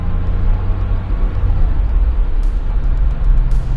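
Porsche 911 SC with a 915 five-speed gearbox driving along, its flat-six engine giving a steady low rumble heard from inside the car, with a few faint higher ticks toward the end.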